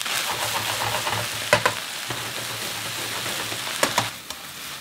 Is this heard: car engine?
no